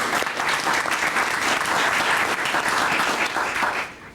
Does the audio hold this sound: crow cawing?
no